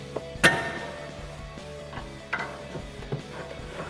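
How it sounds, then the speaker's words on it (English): A pry bar levers the front suspension knuckle of a 2008-2022 Dodge Challenger to pop loose the ball joint during a lowering spring install, giving a couple of sharp metallic clanks and scattered close-up clicks. "now I'm gonna pry up to disconnect the ball joint here"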